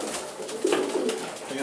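A Janssen racing pigeon coos nearby in a loft, giving a few soft throaty coos over a steady background hum and rustle.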